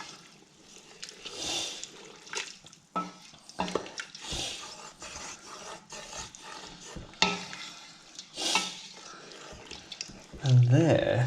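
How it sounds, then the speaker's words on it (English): Chickpea liquid is poured into a chickpea curry and slowly stirred in, giving wet sloshing and scraping stirring sounds in irregular bursts, close and moderately loud. "you're going to add the water that they're in, like so. Just gonna slowly stir that into the mix."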